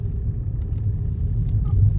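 A car's engine and road rumble heard from inside while driving, a steady low drone swelling slightly toward the end, with no voices.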